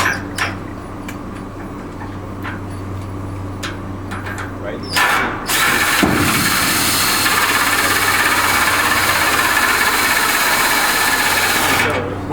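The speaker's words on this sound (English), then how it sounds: "Any regular cordless drill will work." A steady whirring cordless drill motor drives a nut on gym equipment continuously for most of the clip after a few short bursts and clicks, loud and close.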